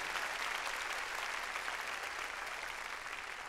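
A church congregation claps loudly in praise during a Sunday service, a sustained even wash of many hands that stays steady and fairly distant in a large room.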